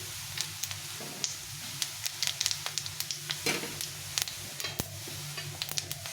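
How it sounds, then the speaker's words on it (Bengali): Dried chili, a bay leaf and cumin sizzle in hot oil while a potato and pointed gourd curry is being made. A quiet, steady fry is dotted with sharp, scattered pops and crackles. "একটা শুকনো লঙ্কা ফাটিয়ে দিয়েছি, একটা তেজপাতা, আর দিয়ে দেবো একটু পরিমাণ মতো জিরে"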